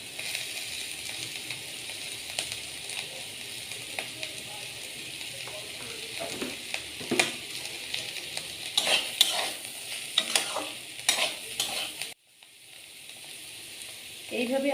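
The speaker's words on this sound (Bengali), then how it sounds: "এইভাবে আস্তে আস্তে এটাকে ভাজতে দিতে হবে যতক্ষণ না আলু পুরোপুরি সেদ্ধ হয়ে যাচ্ছে।" Kakrol (teasel gourd) and potatoes frying slowly in a pan, a constant close sizzle with occasional scraping stirs. It drops off abruptly near the end before a brief rise, and no one speaks.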